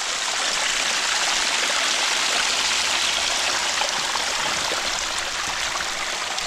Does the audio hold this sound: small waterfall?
yes